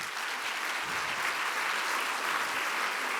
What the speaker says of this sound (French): Je pense qu'il faudrait aussi et surtout applaudir Bernard,